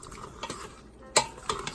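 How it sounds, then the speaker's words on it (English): Beef being stirred in a pot for Vietnamese beef stew, with soft scraping and a few light metallic clinks of a utensil against the pot under a faint sizzle, quiet and close. "stir until the beef will turn into brownish"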